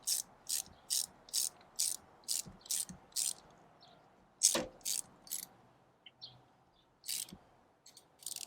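A hand ratchet tightens a nut on the lower stud of a road grader, clicking in quick, even bursts. A louder metallic knock interrupts partway through, then more scattered clicks follow.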